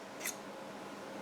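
Scissors give a single quick, faint snip through crochet yarn, followed by quiet room tone.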